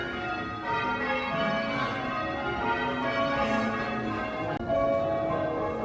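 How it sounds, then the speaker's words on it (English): Church bells ring in a tower in a continuous overlapping peal of chimes, moderately loud and steady, with a brief clank near the end and no talking. "So this is like wedding bell chimes, isn't it?"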